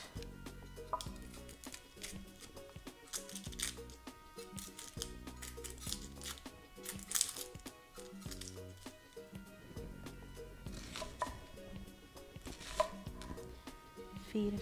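A knife chops shallots rapidly on a cutting board, crisp rhythmic taps in quick bursts with short pauses, close and clear, no talking.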